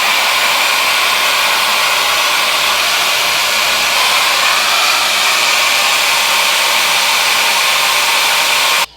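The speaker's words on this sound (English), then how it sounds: "That's what I like about this diffuser, that you're able to really get in there in the roots, and you're able to just bring it up, dry a little bit" A Shark HyperAir hair dryer fitted with a diffuser blows steadily while drying curly hair, a loud, constant, close whoosh that runs unbroken and then cuts off abruptly at the end.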